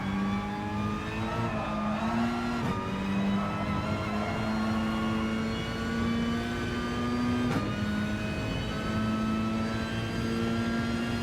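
A Peugeot RCZ Group 4 race car screams down the straight at Monza in Gran Turismo, its high engine note rising steadily through the gears with brief dips at each upshift, loud and continuous.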